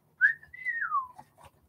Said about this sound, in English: No, apart from that weird whistle.